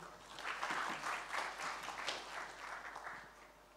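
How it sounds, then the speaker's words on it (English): Audience applause at a panel discussion of a Jakarta investment festival, a steady moderate patter of many hands clapping for about four seconds, fairly even throughout with no voices on top. "So let's give her a round of applause."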